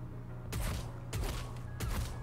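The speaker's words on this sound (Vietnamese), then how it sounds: "Ở đây cái dạng bắn súng của nó như này." Gunfire from a character's weapon in the game NIKKE comes as three sharp bursts roughly two-thirds of a second apart, each with a brief thumping tail, fairly quiet overall.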